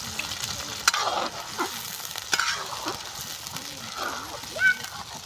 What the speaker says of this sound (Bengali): পেঁয়াজটা আমার অর্ধেক ভাজা হয়ে গেছে